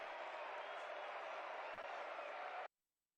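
A dense in-game crowd roar of cheering and applause during a Shift Summer League EU esports match fills the clip steadily, then cuts off abruptly into silence.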